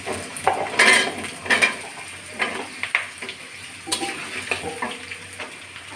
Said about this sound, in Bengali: লাল লাল করে আলুগুলো ভেজে